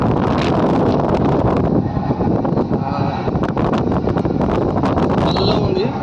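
Fans blowing air into Belum Caves in Kurnool district, a steady loud rushing roar close to the microphone, with voices talking faintly underneath.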